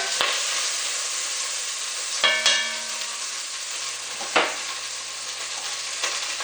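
Onion and carrot sauté in butter in a pan, a soft, steady sizzle broken by a few clinks and scrapes of stirring and a faint low hum, with no one talking.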